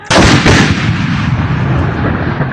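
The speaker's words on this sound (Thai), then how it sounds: "จู่เรียบร้อย จับเชือกยิง" A mortar fired by Thai soldiers booms once, loud and close, with a sharp crack followed by a long rumbling decay and a second burst just after; no talking.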